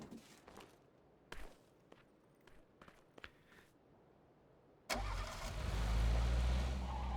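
A vehicle engine in the PUBG video game cranks and catches, then settles into a steady loud rumble after a few soft footstep-like clicks in a quiet lead-in.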